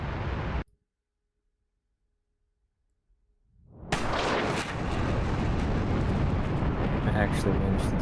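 A missile fired from an F-4 Phantom in the DCS flight simulator: after a short burst and a stretch of silence, a sudden loud roaring blast rises and sustains as a continuous rushing noise.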